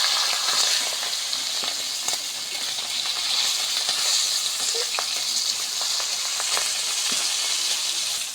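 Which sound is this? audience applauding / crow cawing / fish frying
fish frying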